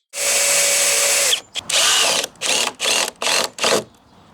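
A power drill drives screws into composite deck pieces during a home renovation, with one long high whir followed by a series of short bursts, close and loud.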